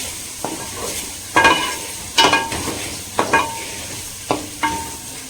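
Tomatoes cooking in a pan for butter paneer gravy, with a steady soft sizzle broken by several sharp scraping stirs of a spoon against the pan, close and clear with no talking.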